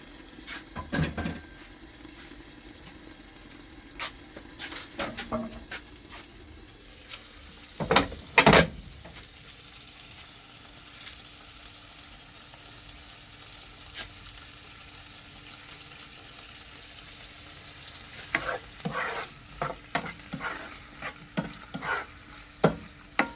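Food frying in Golden Festa canola oil, low continuous sizzle broken by bursts of utensil clatter and scraping against the pan, with quieter stretches between bouts of stirring.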